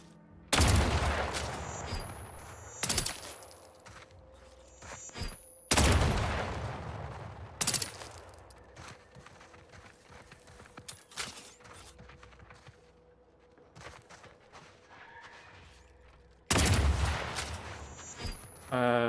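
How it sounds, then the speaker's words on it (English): Gunshots in The Outer Worlds 2 aimed at a minefield: several sharp, loud blasts and short bursts arrive at irregular intervals, separated by quieter stretches with faint footsteps and background hum. "I'm just trying to clear a minefield with a gun."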